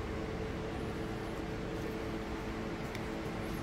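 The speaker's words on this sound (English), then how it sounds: "Sorry about the fan noise, guys." Steady broadband whoosh of a running fan in a hot garage workshop, constant and moderately quiet with no change over the few seconds and no talking.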